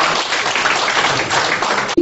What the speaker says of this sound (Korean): 큰 환영의 박수 부탁드리겠습니다